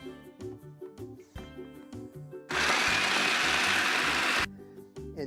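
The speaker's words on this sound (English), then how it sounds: "Now we're just going to process these and grind these up." Food processor grinding Oreo cookies, starting with a few short rattling pulses, then a loud continuous whirring grind for about two seconds before stopping, with a faint background hum.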